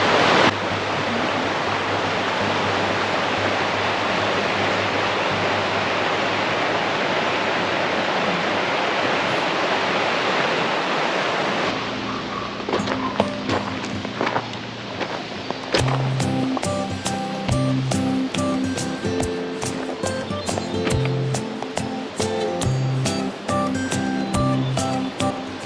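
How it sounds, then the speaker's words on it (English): A creek formed from glacier meltwater near Spencer Glacier in Alaska rushes continuously with dense broadband noise. Halfway through, the roar softens, and scattered clicks and knocks join the flowing water. "This is all the glacier melt, which has formed a creek or a river, if you will."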